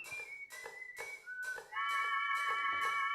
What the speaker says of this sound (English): I'm still on the whistle sound